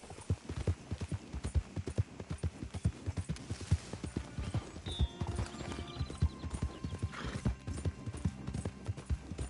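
Horse hooves clop rhythmically in Red Dead Redemption II, a quick steady run of close, crisp hoof strikes with faint harness clinks and a brief whinny, moderately quiet with no speech.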